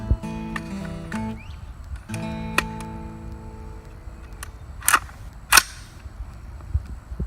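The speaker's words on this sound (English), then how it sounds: "now we're going to be shooting the very controversial AR-15 223 round" An AR-15 rifle firing .223 rounds at an outdoor shooting range, two sharp loud reports about half a second apart near the end, following a stretch of steady tonal background sound.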